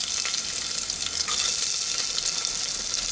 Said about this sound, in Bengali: ফোড়নটা কয়েক সেকেন্ড ভাজা হয়ে গেলে এর মধ্যে আমি দিয়ে দিলাম 4টে কুচানো রসুন